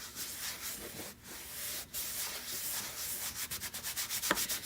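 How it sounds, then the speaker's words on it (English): Wax applicator rubbed over a coastal tray, giving a soft, steady scrubbing hiss with quick rhythmic strokes toward the end. "So we've got wax, and then this is a wax applicator."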